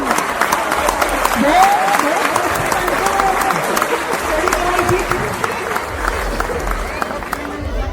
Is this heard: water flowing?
no